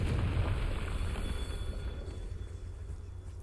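A Confringo fire spell in the video game Hogwarts Legacy bursts into a rumbling, booming explosion that fades out over a few seconds.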